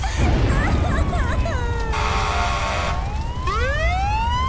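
Wailing fire engine siren from a toy-themed scene, rising and falling in quick yelps and then long sweeping tones, loud and close, with voices talking over it.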